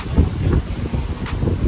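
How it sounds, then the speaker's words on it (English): Strong wind blows outdoors during a tropical storm watch, buffeting the microphone in steady low roaring gusts with brief lulls between them, and no voices can be heard. "This is very windy."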